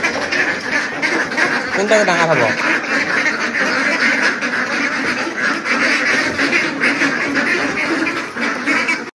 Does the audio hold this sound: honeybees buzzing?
no